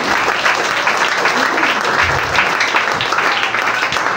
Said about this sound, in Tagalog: Palakpakan nga natin ang Panginoon.